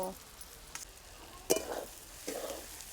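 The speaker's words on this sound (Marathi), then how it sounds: "आपण हे चांगलं मिक्स करून घेऊ ही चांगली परतून घ्यायची" Minced soybean bhurji being stirred and sautéed in a pan, soft sizzling with a couple of scraping stirs of a spoon, quiet and close.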